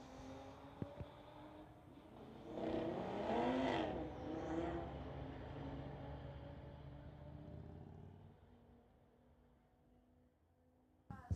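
A 1994 Lexus and a Nissan 350Z run a street-legal drag race, engines droning and swelling at a moderate distance as the cars accelerate away, then fading into a low background rumble.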